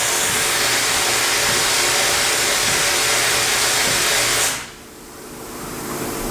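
A vapor hone wet blast machine blasts a carburetor with a loud, steady hissing rush that cuts off abruptly near the end, leaving a quieter low whir behind.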